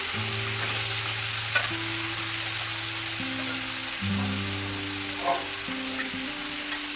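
Potatoes and onions sizzle and crackle steadily in hot oil in a wok, with occasional stirring scrapes and a low background hum.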